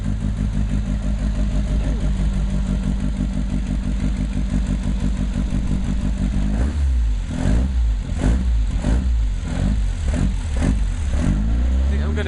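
A speedboat engine at a watersports spot by the sea revs hard as the boat pulls away, a loud close roar that rises and pulses with the throttle, with people talking over it.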